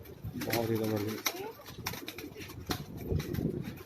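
Pigeons coo in low, rolling murmurs from a rooftop loft in Karachi, a heavy-bodied bird among them, with someone talking over the birds throughout.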